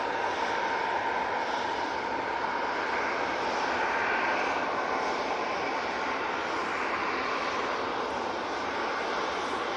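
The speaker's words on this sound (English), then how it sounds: "This Ryanair 737-800 is off to Marrakesh" A Ryanair Boeing 737-800 departing Manchester for Marrakesh roars steadily with broad jet-engine noise, loud and unbroken throughout, no talking.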